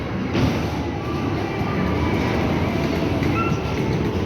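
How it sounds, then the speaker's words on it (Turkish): A small ride-on playground train rolls along with a steady, close mechanical rumble and hum that continues evenly throughout, with no talking over it. "Hala trene biniyor."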